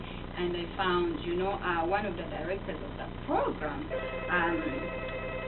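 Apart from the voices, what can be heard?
telephone ringing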